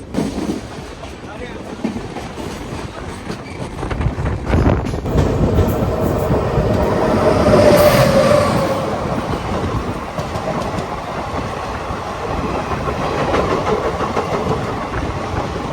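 The Okha–Ernakulam Express hauled by an Erode-shed WAP4 electric locomotive passes on the rail line, a loud rumbling, clattering roar that swells mid-way and continues with wheel clatter, heard from a nearby platform or train.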